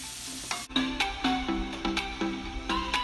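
Carrots stirred in a hot pan: repeated scraping strokes of a utensil over a steady background sizzle, close and fairly loud, with no talking.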